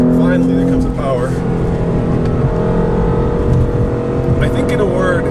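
A 2015 BMW M3/M4 twin-turbo engine pulls hard at full throttle on the Road America track, a loud, steady roar held throughout, with someone talking over it.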